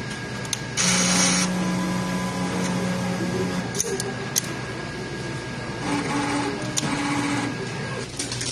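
A sublimation printer runs a print-head cleaning cycle, giving a steady mechanical whir with sustained motor tones that shift pitch in stages, plus occasional clicks, alone with no talk.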